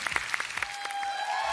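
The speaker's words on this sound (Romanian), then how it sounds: "Haideți să aplaudăm pe băieții care vor aborda fetele." Applause from a comedy show's studio audience for the male contestants, scattered claps opening into a short, steady patter of clapping at moderate level.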